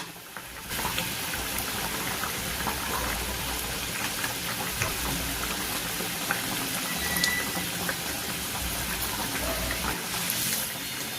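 A pot of fish curry bubbles at a steady boil, with a continuous soft hiss and fine crackle and occasional small pops throughout, close and even.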